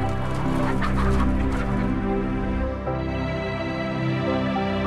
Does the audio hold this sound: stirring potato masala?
no